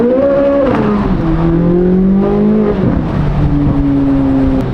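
A Corvette C8 Z06 revs hard through a sequence of loud, close blips whose pitch climbs and falls, with the engine roaring steadily across the whole stretch and no one talking.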